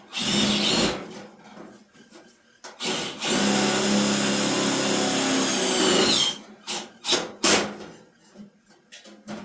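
A power drill drives screws during a hot rod build with louvered panels, whining in several bursts, one long run of about three seconds, close and loud, with brief pauses and stops between.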